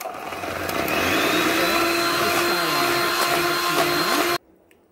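An electric mixer beats eggs into Madeleine cake batter with a loud, close motor whine that climbs and wavers as it works, then cuts off abruptly near the end.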